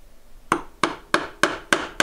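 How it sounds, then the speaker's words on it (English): A mallet strikes a chisel chopping a dovetail in wood, six crisp, evenly spaced knocks following a quiet start, close and clear with no speech. "Now before you chop, you get it in position. I'm going to hold the chisel here for you."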